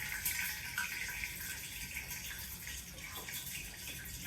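Water splashes into hot oil while tempering sev khamani, sizzling steadily in a hissing, bubbling wash with no pauses.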